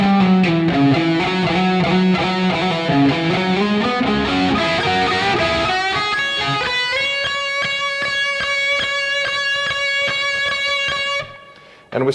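A blues lead on electric guitar plays a fast lick slowed down, a string of clear picked notes that settles into one long sustained note before fading out, with no voice over it.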